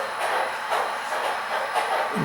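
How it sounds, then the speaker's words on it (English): HO scale model train running along layout track on a descending grade, giving a steady close hissing rattle with faint rhythmic clicks of wheels over rail joints, no talk over it. "as we followed the train since it came out of the last tunnel, it's slowly been working its way down the wall"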